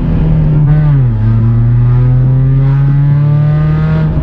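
A Lada Priora with a loud exhaust muffler drones steadily from inside the car, a deep, continuous engine hum that dips slightly in pitch as the revs change.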